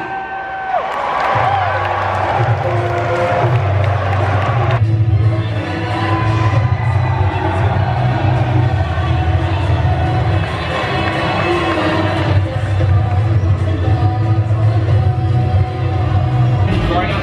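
A crowd at a fighting game championship in Daytona cheers and whoops for a player announced as Captain Zach, a loud, sustained roar with music and a voice over it throughout.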